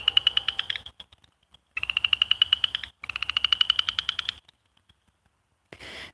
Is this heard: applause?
no